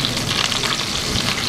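Potato cutlets (aloo kebabs) fry in a pan while their second side browns, with a loud, continuous, close oil sizzle and crackle throughout and no voices.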